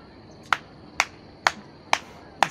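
Five sharp hand claps spaced about half a second apart, loud and close against quiet background, made by a person walking.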